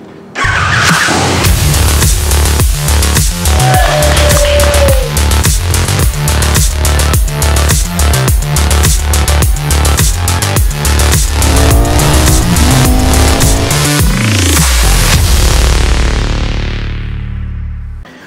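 A KTM Brabus 1300R motorcycle engine revs loudly and continuously for about eighteen seconds up close, with rapid pulsing blips and rising, falling pitch sweeps, no talk over it.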